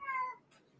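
A cat lets out one short, high, tonal meow close by, fading quickly into a quiet room.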